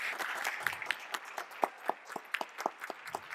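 Scattered, sparse clapping from a theater audience at a school fall play, a handful of individual claps sounding in an uneven rhythm at moderate distance, with no talk over it.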